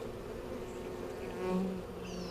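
Honeybees hum in a continuous, moderately loud drone at an open hive during an inspection, with individual bees swelling briefly louder as they pass close.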